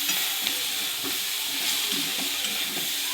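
Vegetables with egg stir-fried in a pan for a spring-onion curry, a steady moderate sizzle with soft intermittent stirring scrapes, close by with no talking.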